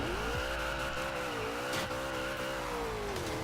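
Tires squeal loudly as a car brakes hard in Forza Horizon 2, a steady high-pitched screech over the engine's drone lasting several seconds, with a brief thump midway and no talking.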